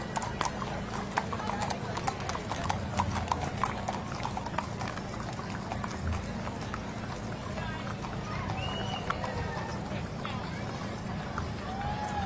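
A group of horses clip-clops along a street during a Veterans Day parade in Auburn, many hooves striking pavement in a dense, uneven clatter, with an occasional whinny and people talking nearby.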